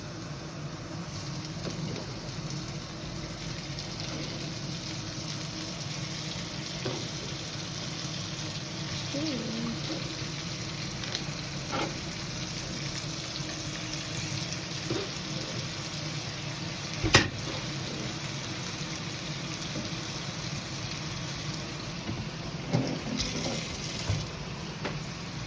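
Tomatoes fry with pork and pechay in a pan, giving a steady, moderately loud sizzle throughout with occasional stirring clicks and faint talk.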